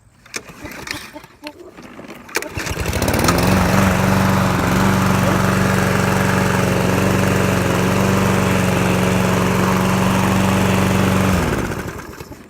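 A Snapper SP90 rear-wheel-drive self-propelled lawn mower starts after some handling clatter, then runs at a loud, steady engine drone for about eight seconds before cutting off.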